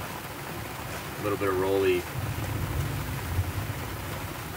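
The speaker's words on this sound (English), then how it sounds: "it's just a lot of rain and lightning and thunder" Rain falls steadily as a constant hiss on a sailboat riding at anchor off Grenada during Hurricane Elsa, while someone talks over it.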